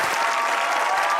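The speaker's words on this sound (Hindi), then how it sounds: "तालियां होनी चाहिए सलमान साहब के लिए" A studio audience at a comedy talk show applauds, a dense, steady burst of clapping heard alone.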